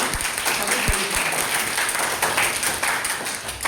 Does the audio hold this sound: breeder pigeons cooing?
no